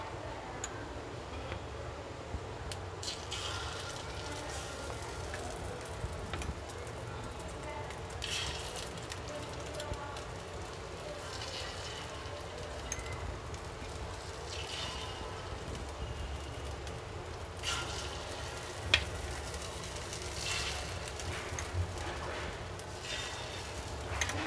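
Egg punugulu batter fries in a pan with a soft, continuous sizzle and scattered faint ticks and pops, holding at a low, even level throughout.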